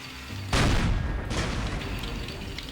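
Tank gunfire in the Faces of War video game: a heavy boom hits suddenly, then a second blast follows about a second later, with rumbling echoes trailing off.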